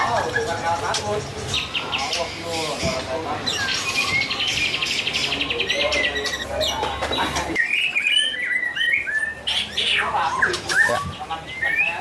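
A murai batu songbird sings in a busy bird gallery in Jakarta, with rapid, bright whistled phrases and chirps over a crowded background of other birds and murmuring voices.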